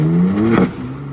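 BMW G87 M2 revving while drifting on a backroad, one steady engine note climbing briefly then easing off, heard from a short distance.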